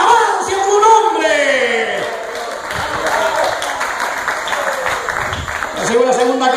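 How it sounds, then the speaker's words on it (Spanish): Church congregation applauding during a sermon, with scattered clapping and crowd voices mixed under prominent talking and shouts throughout. "¡Dale un aplauso al Señor!"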